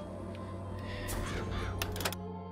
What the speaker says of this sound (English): Press LT to summon murderous crows.